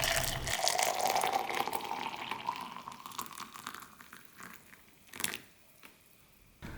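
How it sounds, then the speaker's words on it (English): Warm water pours steadily into a mug, a close trickling fill that tapers off, followed by a couple of brief clinks and splashes. "So get yourself a mug and add warm water."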